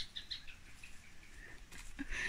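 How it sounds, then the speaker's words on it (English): Outdoors on a lakeside walk, a bird gives short, high beeping calls, faint and somewhat distant, repeated a few times over soft background noise. "Beepy bird."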